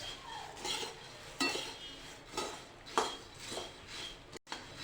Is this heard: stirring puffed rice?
yes